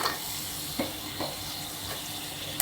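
Tomatoes drop into a pan of sizzling onion and ginger-garlic paste, giving a steady frying hiss with a few soft stirring clacks and a sharper clatter at the end, with no talk.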